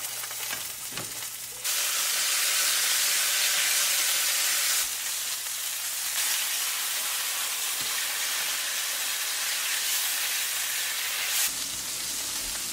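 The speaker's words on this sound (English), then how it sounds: "Now we sear it. We sear it on really high." Steak sears on really high heat in a pan, a loud, dense, continuous sizzle that surges as the meat goes in and keeps crackling steadily throughout.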